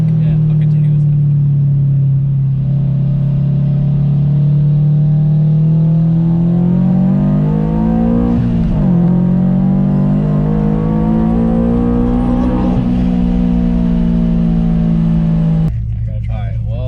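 A boosted Subaru BRZ engine holds a steady droning rev, then climbs in pitch as the car accelerates, heard loud from inside the cabin while people talk over it.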